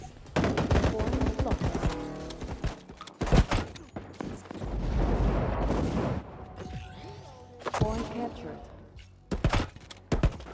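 Shotgun blasts in the mobile shooter Battle Prime, heavy booming shots spaced irregularly amid game noise and a talking voice, loud and near, with a few sharp peaks standing out over the mix.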